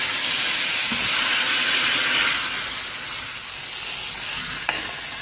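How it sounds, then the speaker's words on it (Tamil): Hot tempering poured into ash gourd and lentil kootu gives a steady, loud sizzling hiss that eases slightly midway, with a faint clink near the end. "இப்போ கேஸ் ஸ்டவ் ஆஃப் பண்ணிடுவோம் பார்த்தீங்கன்னா தாலிப்பதில் ஊற்றிடுவோம்"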